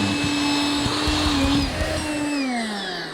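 A vacuum cleaner sucks flea beetles off infested eggplants in a garden, giving a steady, loud, close motor drone with a whining tone that slowly drops in pitch near the end, with no talk over it.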